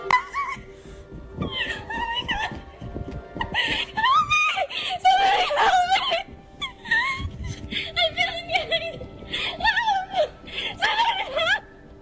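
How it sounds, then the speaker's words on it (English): A woman screams in a high, frantic voice while sprinting down a hotel hallway in paranormal camera footage, with repeated cries, whimpers and breathy bursts over noisy, clattering movement. "screaming like something is right behind her"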